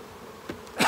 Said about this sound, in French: c'est notre essaim